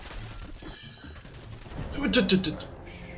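Shotgun fire in the video game Fallout 4: a loud, booming burst of blasts hits midway through, rising over a low, murky game background and fading into a lingering hiss.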